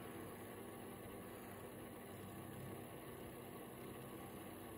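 Califone AV80 cassette recorder motor spinning, a faint, steady low hum and whir that runs evenly throughout with no other sounds.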